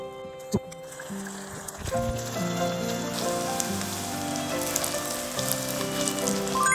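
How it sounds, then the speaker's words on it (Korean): Oil crackles and sizzles steadily as battered tempura deep-fries, with a sharp clack of utensils at the start and no talking. "그래도 한 번 더 튀겨볼게요."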